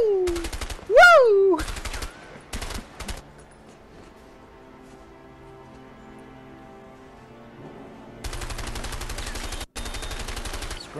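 Rapid automatic gunfire from a firefight in the video game A Way Out, loud bursts of machine-gun fire at the start and a sustained rattling volley near the end, with a quieter stretch between.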